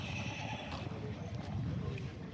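At a horse market, a horse gives a faint, short whinny amid a low crowd murmur and background chatter, the call rising briefly over steady outdoor noise.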